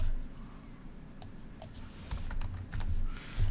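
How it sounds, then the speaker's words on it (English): Typing on a computer keyboard, a short burst of crisp key clicks that comes in quick clusters over a low background hum, close and clear with no speech. "So I'm just going to type in break"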